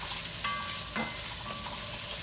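Bacon sautés in a pan with a moderate, continuous crackling sizzle, marked by a few light clinks of a utensil stirring. No voices are heard.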